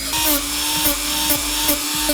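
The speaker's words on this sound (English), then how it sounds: "So I broke out my Dremel, my rotary tool, and my stone bit." A Dremel rotary tool fitted with a stone bit grinds against an armor prop, a steady motor whine broken by repeated rhythmic scraping bursts about every half second, close and loud.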